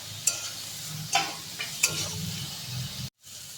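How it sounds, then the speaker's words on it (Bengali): Masala with onion pieces, bay leaves and green chilli being stirred and fried in a pan, quiet sizzling with a few sharp scraping strokes of the spoon spaced through the clip. "এবার মশলাটাকে ভালো করে কষিয়ে নেব।"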